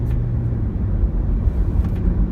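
A 2017 Hyundai Ioniq hybrid cruises with its gears shifted manually, giving a steady low road rumble and engine drone from inside the cabin, with no distinct shift events standing out and no voices.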